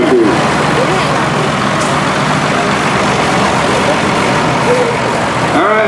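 A 1971 Allis-Chalmers AC 190 high-crop tractor rolls by in a tractor show parade, its engine a loud, steady rumble under continuous announcer talk over a PA.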